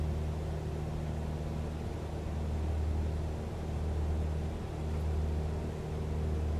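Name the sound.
Cessna 172 engine in Microsoft Flight Simulator video game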